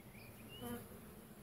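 Calm honeybees in an apiary hive give a faint, brief buzzing drone, soft and close, with no voices.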